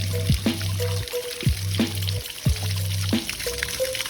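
Glacier-fed mountain stream water pours steadily into a bottle, with a continuous close gurgling trickle and rhythmic glugging pulses as the bottle fills.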